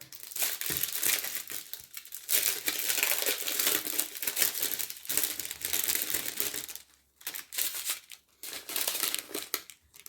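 Close-up crinkling and crumpling of plastic packaging as a diamond painting kit is opened, loud rustling bursts that continue for most of the clip with a few short pauses.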